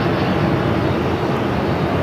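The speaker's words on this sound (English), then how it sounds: "This is an Airbus A320." Airbus A320 airliner at Phoenix Sky Harbor airport, a steady, loud broadband engine roar held evenly for two seconds with no voices over it.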